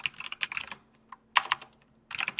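Bursts of clicky keystrokes on a computer keyboard as a shortcut is typed, three quick clusters of taps separated by short pauses, close and fairly quiet, no talking.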